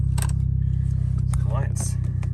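A 2006 VW Golf GTI with a cylinder misfire idles with a low, steady engine hum while someone talks over it.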